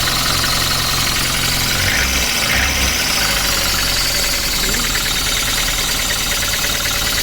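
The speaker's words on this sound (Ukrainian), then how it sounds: "ось так працює наш двигун. Бачимо, як він труситься" A VAZ 21099 car engine idles unevenly nearby, a constant rumbling drone with a shaky, knocking pulse and occasional stumbles.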